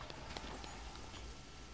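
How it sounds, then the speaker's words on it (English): In The Legend of Zelda: Breath of the Wild, the giant horse's hooves clip-clop in a quick, soft patter that sounds faint and distant under the game's ambient noise. "It's the giant horse."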